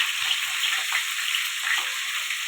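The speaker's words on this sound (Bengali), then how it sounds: "তার জন্য কড়াতে পটলগুলো ভেজে নেবো" Pointed gourd (potol) frying in a wok (kadai) with a little salt, producing a steady, bright, close sizzling hiss that runs evenly without pause.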